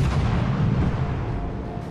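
Naval guns fire at an enemy warship in World of Warships: Legends, a loud, continuous booming rumble that rolls on without a break and with no voices.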